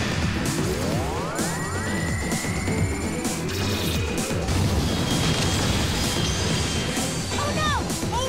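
A Vestroia cannon fires in a Bakugan cartoon battle, a rising sci-fi energy sweep followed by crashing impacts and booms in a dense, busy animated mix.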